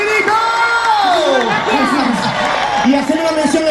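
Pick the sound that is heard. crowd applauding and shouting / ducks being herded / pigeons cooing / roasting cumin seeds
crowd applauding and shouting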